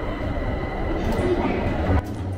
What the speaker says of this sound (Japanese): ちょうど電車が行ってしまった後なので